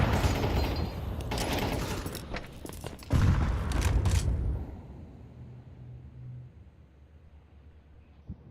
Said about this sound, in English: That's a headshot. It's a very nice headshot from NQZ.